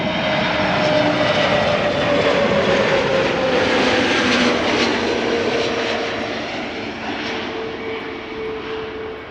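A TAP Air Portugal Airbus A321neo arrives from Lisbon at a busy airport, a loud, sustained jet engine roar with a tonal whine that slowly eases off toward the end.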